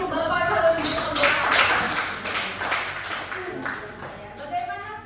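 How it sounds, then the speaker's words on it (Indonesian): A school audience applauds a governor candidate at a teacher-training event: scattered, uneven clapping with a few irregular bursts, mixed with some low murmuring. "kita beri tepuk tangan untuk Bapak calon gubernur"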